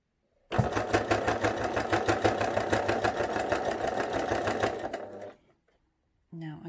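A domestic sewing machine stitches a flat cap for a memory bear in a steady, close, rapid run of needle strokes for about five seconds, then stops; a brief faint sound follows after a pause.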